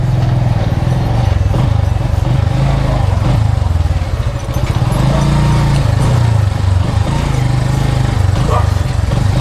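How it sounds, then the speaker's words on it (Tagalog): A motorcycle engine runs steadily and loudly nearby for several seconds, with a low, even chug as the bike is brought inside, briefly dipping before carrying on. "Pasok natin yung motor."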